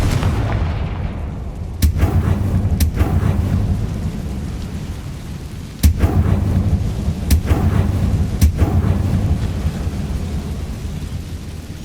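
A Confringo fire spell blasting in Hogwarts Legacy: several loud, sudden booming explosions at irregular intervals, each with a crackling tail, over a steady rumbling game ambience.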